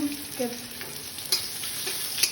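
Chopped onions frying in a wok for a spicy Indian carplet fish dish give off a steady close sizzle, with a few stirring knocks and a faint squeak early on.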